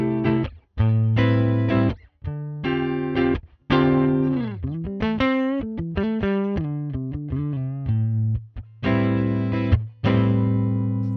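Electric guitar on a Vigier Expert Strat's neck pickup through a '57 Custom Twin amp model, recorded with an R121 ribbon mic, played as distorted chords and quick melodic runs with brief pauses, close and fairly loud, no talking.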